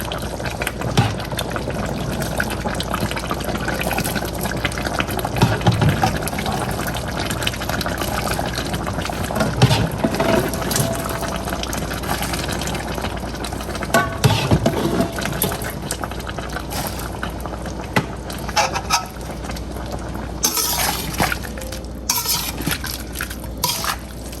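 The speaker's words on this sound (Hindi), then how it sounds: "अब हम इसमें बॉयल किए हुए चने शामिल कर देंगे।" Boiled chickpeas being added to a pan of chicken curry, with wet, liquid sloshing, stirring and occasional scrapes against the pot, fairly close and continuous for over twenty seconds, no talking.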